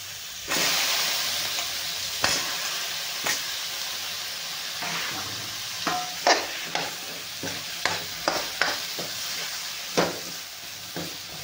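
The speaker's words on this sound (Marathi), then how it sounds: "मसाला थोडासा परतून घ्यायचा आहे आपल्याला. हे टाकून द्यायचे दोडके आपल्याला." Chopped ridge gourd fries and is stirred into spice masala in a hot pan, with a steady sizzle and repeated sharp scraping strokes of the spoon, close and clear.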